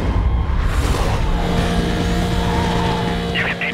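A white Volkswagen in Need for Speed Most Wanted on PS2, its engine roaring loud and close with tires squealing and skidding throughout, a police radio voice talking briefly underneath.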